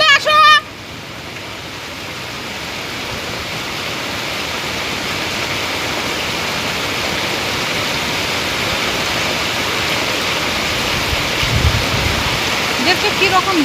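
Heavy rain pours steadily at night as a dense, continuous roar of water close by, with a brief voice and clatter at the start and louder splashing near the end.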